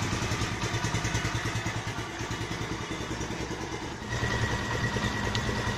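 A new 2019 Honda Monkey motorcycle idles nearby with a steady, even engine putter and light mechanical clatter, running alone with no talk throughout.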